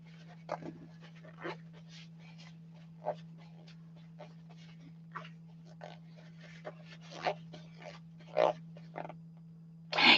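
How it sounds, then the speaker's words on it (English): A dog snores and snuffles indoors with soft, irregular breaths spaced a second or so apart, quiet over a constant low electrical hum, growing slightly louder toward the end. "Janie, the dog is snoring"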